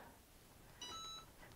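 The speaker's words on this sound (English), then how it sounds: "that was the beep of the Easy Press, it's already heated up" An EasyPress heat press gives a faint electronic beep once it has heated up, a short steady tone of under half a second in a quiet room.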